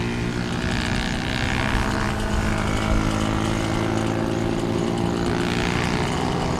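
A TVS Apache RTR 200 race motorcycle crosses the start line during a national motorcycle championship round, its engine a steady, loud roar that builds twice as bikes pass close by, with no speech.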